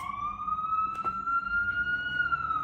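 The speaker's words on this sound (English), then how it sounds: "Thank you, ambulance." An ambulance siren wails steadily with a slowly rising and falling tone, loud and sustained, passing on a Jersey City street with low traffic rumble underneath.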